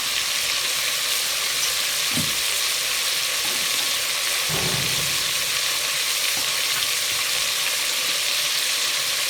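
Continuous loud sizzle of frying in ghee for a white chicken korma, a dense steady hiss with a couple of soft stirring scrapes partway through and no talking.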